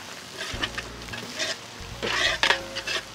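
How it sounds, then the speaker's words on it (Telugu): Onions and green chilies frying in hot oil for an Andhra-style gongura mutton curry, a steady close sizzle with occasional stirring and scraping of the pan. "ఏవైతే ఉల్లిపాయ ముక్కలు మనం దీంట్లో ఆయిల్లో వేయించుతున్నామో కొంచెం కలర్ చేంజ్ అయిన వెంటనే దీంట్లోనే మనం పచ్చిమిర్చి కూడా యాడ్ చేద్దాం"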